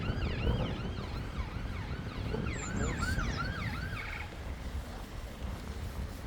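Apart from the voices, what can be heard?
ambulance siren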